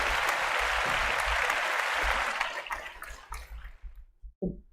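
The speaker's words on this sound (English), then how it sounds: "a big round of applause for Leslie there" Loud sustained applause for a guest at a live podcast on near-death experience fills the first half, then thins into scattered claps and fades out near the end.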